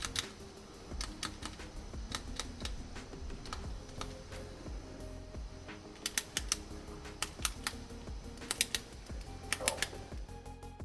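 A Fortis Flieger pilot's watch with a coin-edge bezel ring being turned, giving a run of small, sharp detent clicks in quick irregular bursts over a quiet background hum.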